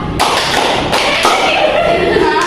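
An Indonesian classroom group claps out a patterned rhythm together: sharp, broadband hand-slap onsets recurring across a short stretch, fairly loud and close, over steady room noise with murmured voices.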